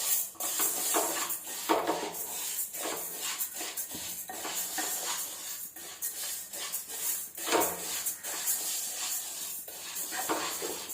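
Moong dal roasting in a pan, dry grains rattling and spatula scrapes against metal in irregular strokes throughout, fairly close and clear, with no talking.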